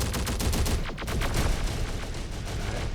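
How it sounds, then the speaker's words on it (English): Rapid bursts of automatic gunfire crackle loudly in the strategy video game Terminator: Dark Fate - Defiance, dense overlapping shots in quick rhythmic volleys with a heavy low rumble underneath, no talking. "Enemy fire!"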